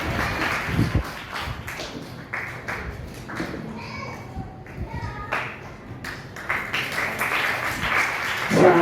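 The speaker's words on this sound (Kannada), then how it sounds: "ಜೋರಾದ ಚಪ್ಪಾಳೆ ಮೂಲಕ" An audience at a women and child development association's fifth anniversary felicitation gives a dense, continuous round of clapping as guests honour a student, with voices and chatter mixed in.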